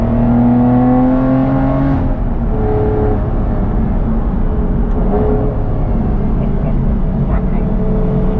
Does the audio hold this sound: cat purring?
no